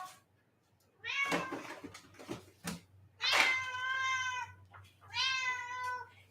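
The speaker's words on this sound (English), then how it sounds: "I love Siamese cats, but oh my God, they do not stop." A Siamese cat meows and cries in loud, drawn-out wails indoors, several separate calls with short gaps between them.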